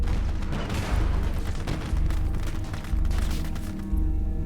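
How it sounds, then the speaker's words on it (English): Heavy .50 caliber machine guns fire in the WWII game Gates of Hell at a Utah Beach hedgerow: loud, continuous rattling bursts with deep booms layered over a dense battle din. "50 cals having a go."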